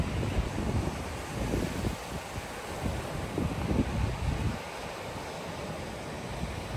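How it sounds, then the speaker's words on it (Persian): Wind buffets the microphone beside the sea at night on a Mexican island, with waves surging and washing in the background, rumbling gusts rising and easing. "اگه صدای باد بذاره اینجا دریاست."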